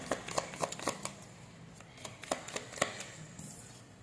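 Tarot cards being shuffled and drawn by hand, a close, quiet series of crisp riffling snaps and soft slaps in an irregular rhythm, with no talking.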